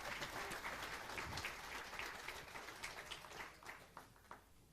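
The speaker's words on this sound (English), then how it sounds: "And you give some applause, please" Spectators applaud at a 10 m air rifle mixed standing final as the shooting for eighth place begins, a continuous scattered clapping that fades into a few separate claps at the end.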